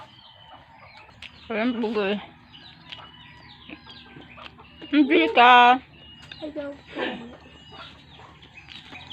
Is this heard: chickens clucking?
yes